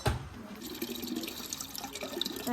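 Water pours steadily into a vessel during an outdoor Pongal celebration in Yelagiri, with a close, continuous splashing trickle and small drips throughout.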